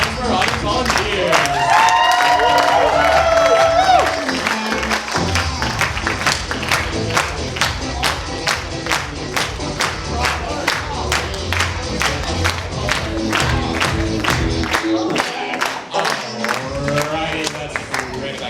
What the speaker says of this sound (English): Big round of applause for our audience volunteers.